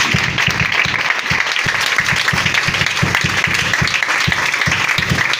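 A church congregation applauds strongly at a Christian service, a thick continuous wash of clapping over a steady low rhythmic thump, likely drums, loud and sustained with faint voices beneath.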